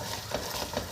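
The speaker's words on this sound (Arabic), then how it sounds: "هنسوي بقى الدقيق احنا كده ونفضلوا نقلبوا عليه" Flour stirred and toasted in a pan as the base for béchamel sauce, a steady soft scraping and light sizzle that continues close and even throughout, with no talking.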